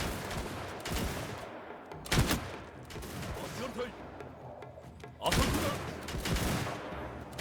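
Musket-style volleys crack out in a feudal Japanese battle in the Shokuho game, two sharp, loud bursts a few seconds apart with rumbling echoes, over continuous battlefield noise.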